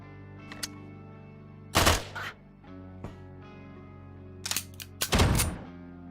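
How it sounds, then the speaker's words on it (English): Shotgun blasts in the video game Quasimorph: two loud booming shots a few seconds apart, each trailed by short mechanical clatter, over a steady low droning game backdrop. "That's a shotgun."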